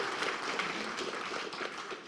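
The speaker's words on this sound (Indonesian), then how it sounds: "Tepuk tangan yang meriah buat Ibu Ketua Umum" Crowd applause at a party national working meeting for the party chairwoman, a dense, continuous roar of clapping that holds at an even level for the whole stretch.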